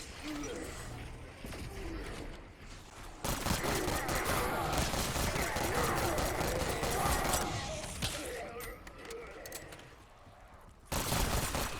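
Dense, continuous rapid gunfire from a weapon in Black Ops 6 Zombies, with a few brief gaps, mixed with game effects and a low voice talking beneath the shooting.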